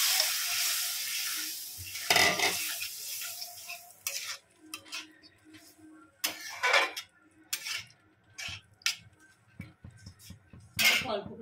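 Boiled kidney beans drop into sizzling masala in a pan. A hissing fry at the start gives way to repeated scraping and stirring strokes against the metal, close and uneven, with faint sizzle between them.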